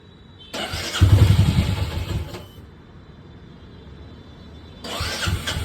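A motorcycle engine cranks and catches in a loud burst, settles to a quieter running hum, then revs up again near the end, with no talking.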